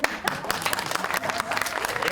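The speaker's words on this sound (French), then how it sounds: "applaudissez très fort" Loud applause from an audience at a Culturiades 2021 tribute award ceremony, dense continuous clapping filling the whole moment with no pauses.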